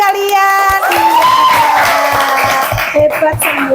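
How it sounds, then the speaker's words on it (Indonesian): A class of students claps together in a classroom, quick applause mixed with voices and someone speaking over it, fairly close and loud. "Iya, pintar, tepuk tangan dulu buat kalian"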